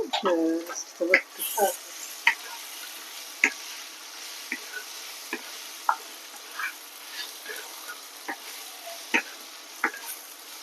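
Mushrooms frying in white oil in a pan, with a steady soft sizzle under irregular stirring clicks and taps of a utensil, close by.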